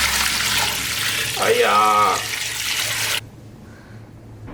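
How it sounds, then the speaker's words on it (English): Water pours steadily into a stock pot over chicken bones for about three seconds, a broad rushing splash that cuts off abruptly, with a brief voiced exclamation partway through. "Then add water to cover the bones at least 1 inch."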